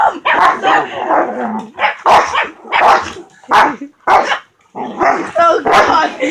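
Three dogs bark in close, loud, rapid bursts mixed with sharp yips and a whimper, while a person talks and exclaims over the commotion.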